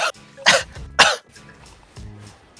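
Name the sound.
coughing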